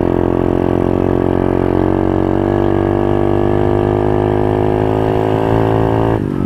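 Motorcycle engine during an off-road ride on a beach, a loud, steady droning run with rich harmonics held near the microphone, pitch dipping slightly at the end, no talk.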